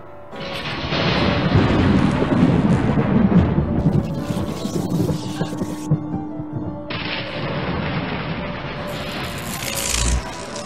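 A loud, rolling thunderstorm with deep rumbles and crackling bursts, sustained throughout with a heavy boom near the end.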